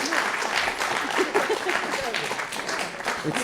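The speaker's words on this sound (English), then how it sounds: "Journalists aren't used to applause." Audience applause at a journalism panel, a moderate, continuous patter of clapping from a roomful of people, with some voices audible under it.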